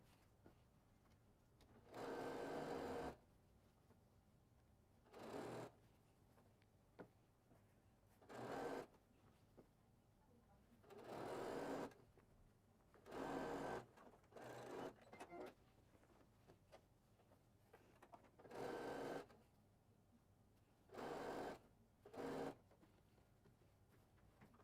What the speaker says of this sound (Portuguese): eu vou começar a costurar uma lateral inteirinha de fora a fora e a outra deixando a abertura para desvirar